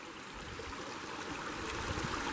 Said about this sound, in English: Nice little stream. A little offshoot of the river running right by us here.